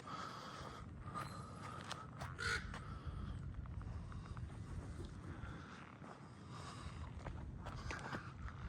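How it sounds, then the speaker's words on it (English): A big crow caws a few times as it flies overhead outdoors in a fire-damaged residential neighbourhood, fairly faint over steady outdoor rumble and footsteps. "Big old crow just flew over my head"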